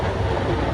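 Loud, steady rumble of a moving Panvel local train heard from inside a carriage, a brief continuous roar.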